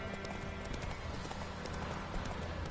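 Roach the horse trots in The Witcher 3, a quick, even run of clip-clop hoofbeats at moderate volume over a dense, steady game background.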